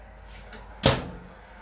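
A single sharp thump of a microwave door shutting in an RV toy hauler, brief and close, over a quiet room hum.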